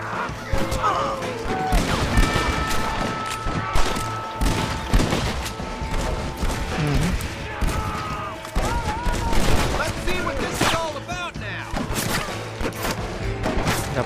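Semi-automatic gunfire in Red Dead Redemption, a rapid scatter of sharp shots and impacts over dense game sound and music, with someone talking over it.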